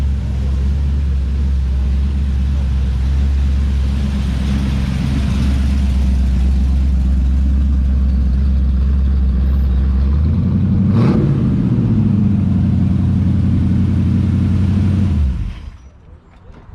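A loud three-engine Panther car rumbles steadily with a deep low drone, rises into a rev partway through, then cuts off abruptly near the end.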